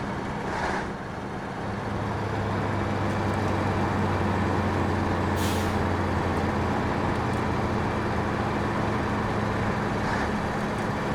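Heavy truck in SnowRunner rolling over asphalt with a steady low engine drone and road rumble, continuous and fairly loud, with a couple of brief hissing bursts and no talk.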